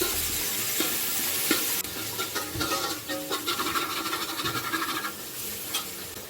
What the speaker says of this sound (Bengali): এবার সবগুলোকে একসাথে মিশিয়ে ভালো করে ভেজে নেওয়া হলো।